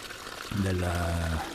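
Rainwater from a rain barrel runs into a container, a steady pouring stream that starts abruptly and keeps flowing for about a second, with a hollow filling tone.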